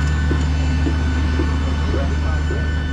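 An airplane waits at the airport before a flight to Morocco, its engines giving off a loud, steady whine and drone that fills the whole stretch, with faint voices mixed underneath.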